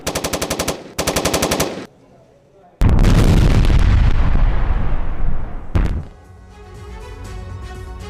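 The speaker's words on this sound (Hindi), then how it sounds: "रूसी टुकड़ी पर यूक्रेन की गोलाबारी।" War footage of Ukrainian forces shelling a Russian unit in Kursk: two rapid, loud bursts of automatic gunfire, a pause, then a huge close explosion whose roar slowly decays into a rumbling tail.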